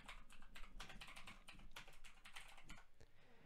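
Rapid typing on a computer keyboard, a dense run of crisp key clicks in an irregular rhythm, close and continuous throughout.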